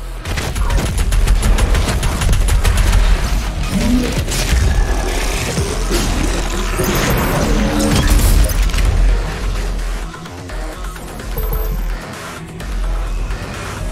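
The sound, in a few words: explosion and gunfire in the video game Doom Eternal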